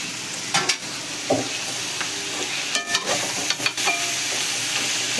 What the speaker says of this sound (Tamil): நல்லா அப்படியே நல்லா கிண்டன்.